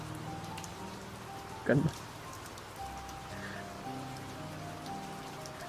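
Steady rain falls outside an open window in a soft, continuous patter, with a brief spoken word partway through and some faint tonal background underneath.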